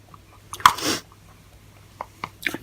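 A single close sneeze bursts out sharply, followed by quieter sniffles and small breathy sounds.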